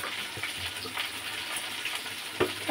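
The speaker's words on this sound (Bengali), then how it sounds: "এটা ভাজা তো ঢেঁড়স।" Okra frying in a pan, a steady low sizzle with occasional soft stirring clicks and one brief sharper knock, heard close and quiet.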